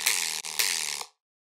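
A phaser-processed synth bass made in Ableton Live buzzes loud and gritty, with a short dip mid-phrase and a fresh attack before it stops abruptly, leaving silence.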